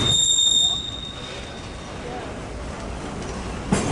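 A freight train rolling past a railfanning spot at Commerce, a steady broadband rumble and rush of wheels with a faint high squeal early on, moderately loud and continuous while people talk nearby.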